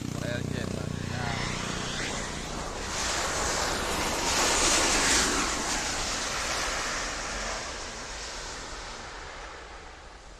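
A Super Air Jet airliner lands, a broad wind-like roar that swells to a peak midway and then slowly recedes, heard from a distance in a gusty outdoor setting.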